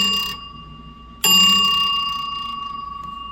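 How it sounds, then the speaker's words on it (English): An electric bell on a 1969 slot machine strikes with a bright ring, then rings again loudly and sustains with a rapid trembling ring that slowly fades. "And you got your bell, which I'm just gonna play it real quick."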